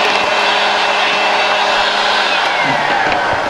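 The built-in vacuum cleaner of a Honda Odyssey minivan running, a loud steady whooshing whine that holds constant and close, with no talking.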